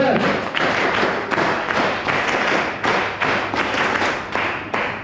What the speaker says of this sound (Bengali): এই জন্য একটা তালি হবে